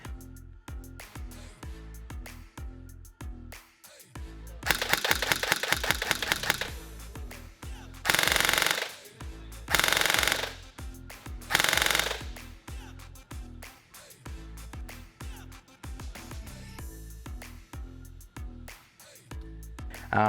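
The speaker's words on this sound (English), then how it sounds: "we will actually chrono this one so we can let you see exactly how it's shooting" A modded ARP 9 foam blaster fires at an indoor range, heard as a rapid burst of mechanical cycling followed by several loud, separate bursts of shots, with clicky handling and clunks between them and no talking.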